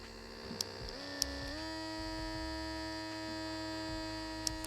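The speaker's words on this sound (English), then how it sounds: "The compressor, the air compressor, is just here." A small handheld airbrush air compressor hums steadily, its pitch rising as it settles into running, then holding an even, fairly quiet drone with a few faint clicks.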